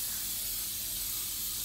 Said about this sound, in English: You hold this part and I'll spray it.